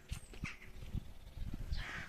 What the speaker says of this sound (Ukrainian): Зараз покажу вам, скільки ворон.